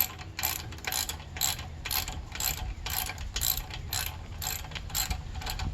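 A hand ratchet cranks a long 12 mm bolt on the front brake of a 1981 Yamaha Virago XV750, giving a steady series of close, crisp clicking strokes in an even rhythm, with no talk.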